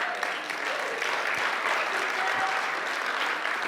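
Steady audience applause fills a talk venue, dense continuous clapping at even loudness with no voices over it.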